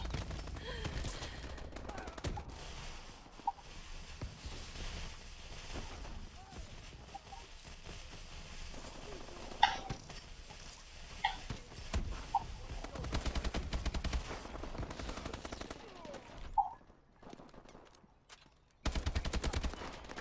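Gunfire bursts in Call of Duty: Advanced Warfare multiplayer, dense and continuous over a busy game soundscape, with rapid shots throughout and a brief lull near the end.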